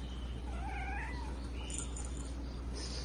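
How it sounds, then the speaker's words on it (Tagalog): A two-month-old Maine Coon kitten at a Bocaue pet market gives a couple of thin, high meows early on, then goes quiet over a constant low hum of market background noise. "meron tayong 2 months na kuting na pagkakulit-kulit"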